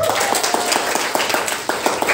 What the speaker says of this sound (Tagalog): Lahat po ng masaya, pumalakpak!